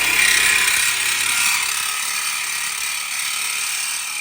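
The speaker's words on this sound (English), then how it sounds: "I'm just going to use my little mini Sawzall, and I'm going to cut that right across there" A small Sawzall-type reciprocating saw cuts across a metal Jeep bumper, a steady, loud, close rasping buzz that runs for the whole span and eases off slightly toward the end.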